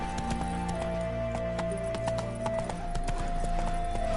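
Horse in The Witcher 3 video game, hooves clip-clopping in a steady rapid trot, close and clear over a sustained droning background tone.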